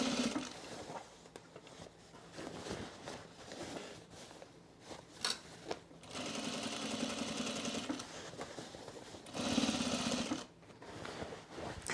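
A sewing machine runs a seam on men's cargo shorts in stop-start bursts, with longer, louder stretches of rapid stitching between brief pauses and quiet handling noises, close and alone.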